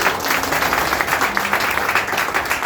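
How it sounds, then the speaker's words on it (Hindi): A wedding-style community gathering applauds a woman from Rewa who tied turbans for everyone, with steady dense clapping throughout that fills the room and has a little speech mixed in. "इनके लिए जोरदार तालियां"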